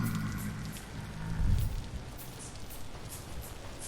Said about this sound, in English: The damn rain is back, though.